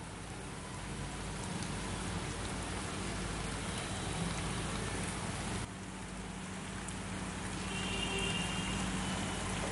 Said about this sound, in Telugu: నిజామాబాద్, కామారెడ్డి జిల్లాల్లో భారీ వర్షం కురుస్తోంది.